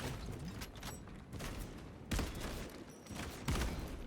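Rapid bursts of gunfire from Warhammer 40,000: Space Marine 2, loud repeated volleys broken by short gaps, with heavier booming hits near the middle and end, and no talking.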